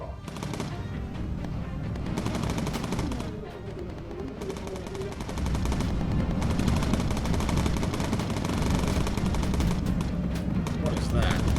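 Bomber aircraft turret machine guns in Bomber Crew rattle in long, dense bursts of rapid fire, loud and nearly continuous, with a voice talking over them.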